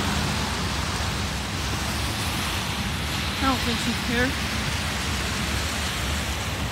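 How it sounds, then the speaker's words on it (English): Steady rain falls outdoors in December, a constant, even hiss of drops on surfaces at moderate level, with a few words spoken midway. "It's currently raining."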